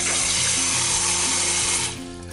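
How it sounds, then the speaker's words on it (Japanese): Tap water runs steadily into a sink while cooked tapioca pearls are rinsed, a loud, close splashing rush that eases off near the end. "水を出しながら、 鍋にも水を入れて、冷ましながらね"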